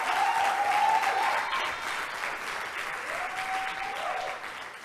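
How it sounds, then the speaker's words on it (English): Audience applause at a talk on building stakeholder relationships, sustained clapping from a sizable crowd at a steady level, fading slightly toward the end, with faint whoops rising over it. "Please, let's give him a round of applause"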